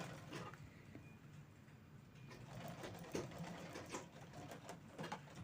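A sewing machine stitches saree lace onto fabric for a handbag, running steadily with a soft continuous whir and rapid needle ticks, quiet and close, with no talking.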